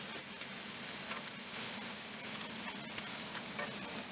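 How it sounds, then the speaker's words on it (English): Pork belly sears in a hot pan with a loud, steady sizzle and hiss that holds evenly throughout, close up and with no talking. "Once this pan gets hot, it just sears everything."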